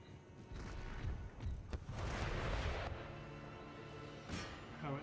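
Howitzers in the Empire Total War video game, a series of deep cannon booms and rumbling blasts that overlap and echo, with one sharper report near the end.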